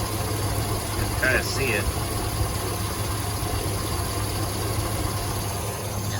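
An engine with bad lifters idles roughly in a steady, close, vibrating drone with a faint ticking character, while a person talks over it.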